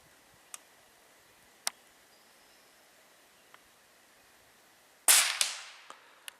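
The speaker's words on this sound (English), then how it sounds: "he's shooting 40 yards at 6-inch target on the right" A shotgun fires one sharp, loud blast at a 6-inch target 40 yards out during turkey target practice, a single crack ringing out and decaying over a second, preceded by a few faint scattered clicks and no talk.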